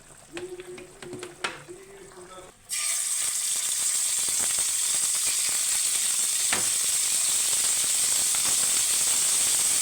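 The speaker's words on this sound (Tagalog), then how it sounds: "Prito naman ako ng chicken." Talk gives way to a loud, steady sizzle of chicken frying in hot oil, continuing without a break to the end.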